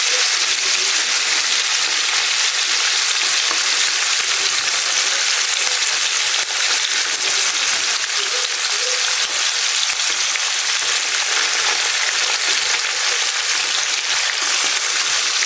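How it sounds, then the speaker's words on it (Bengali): Fish frying in oil gives a loud, steady crackling sizzle that holds without a break, close up and with no talking. "এখানে আমার মাছটা ভাজা হইতেছে"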